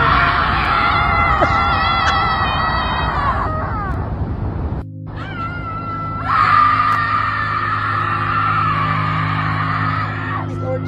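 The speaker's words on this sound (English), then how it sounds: "Portland group who scream together every Wednesday at the park." A group of people in a Portland park scream together in long, loud sustained bursts, two waves of shouting separated by a brief pause, with a faint low hum beneath the second wave.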